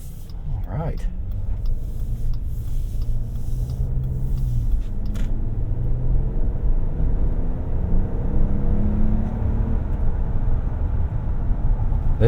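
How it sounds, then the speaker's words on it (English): A 2023 Jeep Wagoneer Series II 4x4 with a 3-liter Hurricane inline-six pulls hard under acceleration, a steady low engine rumble with rising harmonic tones inside the cabin, while a person talks over it throughout. "This 3-liter Hurricane Inline 6 is a great engine."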